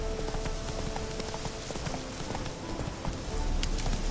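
Hoofbeats of the horse Roach galloping in The Witcher 3: Wild Hunt, a quick, steady clip-clop close by, layered over a dense background of game ambience.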